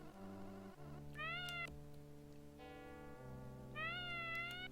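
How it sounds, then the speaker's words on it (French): Azrael the cat from a Smurfs video game lets out drawn-out, wavering meows over steady looping game music, two harsh rising cries standing out loud and close. "il y a le chat Azrael qui fait un bruit horrible"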